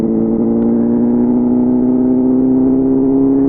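A large motorbike engine with a fuel pump fault runs at a steady, loud, close drone, its low hum unbroken and uneven only in faint rough flutters, with no voices.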